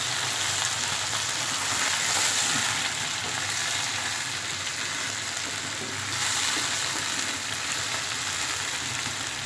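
Chicken pieces fry in a pan while being browned until golden for spicy shimla mirch chicken, a steady, close hiss and sizzle that runs on without a break and swells slightly midway.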